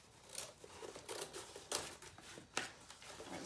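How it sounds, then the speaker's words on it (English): Scissors or a blade cut straight along a cardboard box seam, giving a series of quiet crisp snips and tearing crinkles at an uneven rhythm, close by. "I'm just going to cut straight through this seam."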